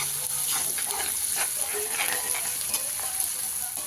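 Chopped onions frying in a covered pan while cooking a village-style dry chicken dish, giving a steady close sizzle throughout with faint stirring scrapes and no talk.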